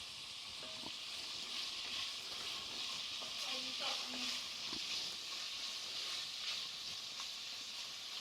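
Onions frying in a pan with rosemary sprigs and salt, giving a steady, close hiss and sizzle throughout with a few faint clinks, no talking.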